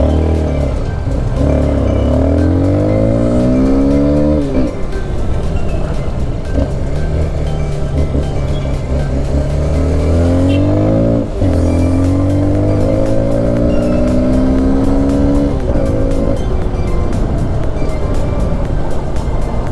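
An NK 150 dirt bike engine revs up and down repeatedly, loud and close, with rising and falling harmonic sweeps as the throttle is blipped over a steady idle.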